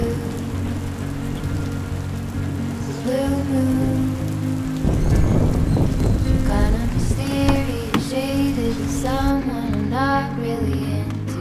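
Rain falls steadily at Punta Sur on Isla Mujeres, pattering on surfaces with a dense, constant hiss, while birds chirp faintly in the background and no one speaks.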